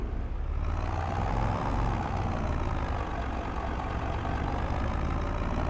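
A tractor engine in Farming Simulator 22, hauling a heavy grain load, drones with a low, steady rumble that shifts pitch slightly as it downshifts, heard alone at moderate volume.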